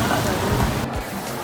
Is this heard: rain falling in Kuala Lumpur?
yes